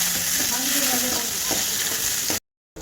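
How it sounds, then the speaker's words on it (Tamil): Large onions fry in a pan with curry leaves and green chillies for tomato sambar, giving a loud, steady sizzle with a few stirring scrapes, which cuts off abruptly near the end. "எல்லாம் போட்டு கலர் மாறுற வரைக்கும்"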